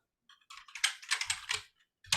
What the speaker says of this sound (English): If we were to just type in template